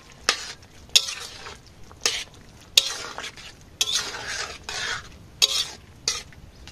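Papaya and potato curry with cumin paste is stirred in a pan, a spoon scraping and knocking in quick separate strokes over a soft sizzle, close and alone.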